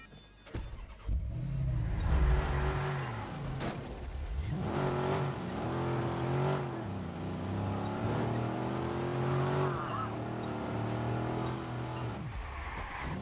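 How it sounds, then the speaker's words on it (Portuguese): A car in the Watch Dogs video game drives and revs, its engine loud and continuous, rising and falling in pitch as it accelerates through gears, with no talk over it. "Tem aqui meu carro aqui, ó. Semi-novo."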